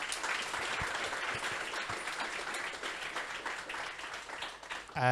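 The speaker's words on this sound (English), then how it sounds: "I think a round of applause for Gordon for demonstrating that value" Applause from staff at a company all-hands meeting, a steady wash of many hands clapping at moderate distance, fairly quiet and even, lasting the whole stretch before cutting off abruptly.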